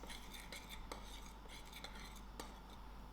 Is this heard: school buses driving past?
no